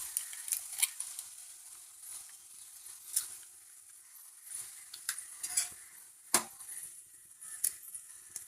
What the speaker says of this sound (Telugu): కూర ఉడికిపోయింది కాబట్టి ఇప్పుడు గుడ్లు పోసేసుకుందాం.